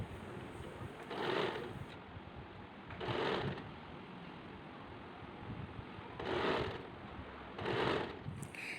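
A sewing machine stitches a child's circular top, running in four short bursts of rapid mechanical whirring separated by pauses, close and fairly quiet over a steady room hum.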